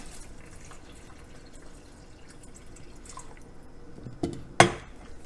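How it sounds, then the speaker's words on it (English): Water poured into a thick salt meat spaghetti sauce in a pot: a short, close splash and trickle near the end, after a few seconds of near silence with faint drips. "And we're going to add some water to it, of course,"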